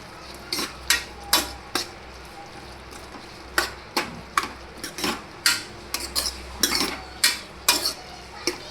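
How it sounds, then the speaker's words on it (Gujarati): A spoon stirs cabbage with spices in a pan, making sharp, uneven scraping clinks against the metal over a faint sizzle, repeated about a dozen times at a busy pace. "અને આ બધા મસાલાને મિક્સ કરી અને કોબીને સારી રીતે હલાવી લઈશું."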